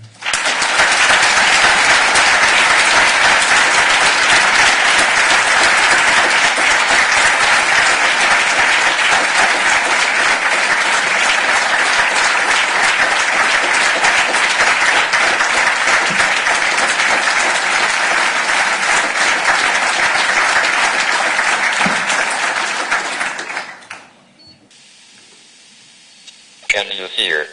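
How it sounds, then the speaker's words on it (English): A large conference audience gives sustained, dense applause welcoming Professor Stephen Hawking, steady and loud for over twenty seconds before dying away abruptly into near silence. "I'd like you to give a really warm welcome to Professor Stephen Hawking"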